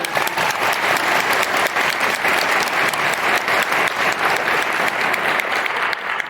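At a pinning ceremony, an audience breaks into sustained applause after a speech. Thick, even clapping from a sizable crowd holds steady for several seconds without a break.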